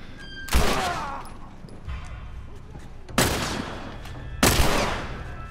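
Gunfire in The Last of Us Remastered: three loud, sharp shots spaced about a second or more apart, each ringing out with a decaying echo over quieter ambience.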